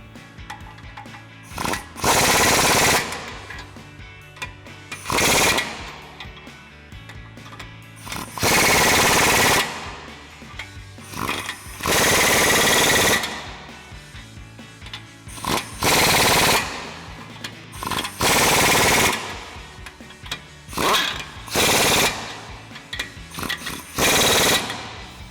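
A power tool, likely an impact wrench, fully tightens the U-bolt nuts of a ReadyLIFT 4-inch SST suspension lift kit on a GMC Sierra 1500. It fires in repeated loud, rattling bursts of a second or two, with short pauses between them.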